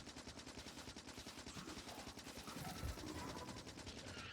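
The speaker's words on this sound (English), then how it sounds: "I'm just going through bullets like crazy" Rapid, continuous machine-gun fire in the video game Factorio as enemy nests are attacked, a dense steady stream of shots with no pauses, loud and close.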